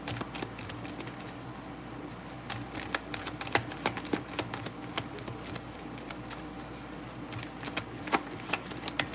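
Tarot cards are shuffled by hand in a continuous run of crisp riffling and flicking taps, close and fairly quiet over a low steady background hum.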